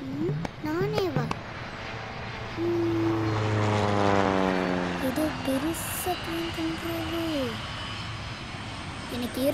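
A fixed-wing propeller airplane drones overhead in a Tamil film scene, its engine tone rising loud and steady with a passing Doppler sweep, while children's voices chatter briefly at the start and end.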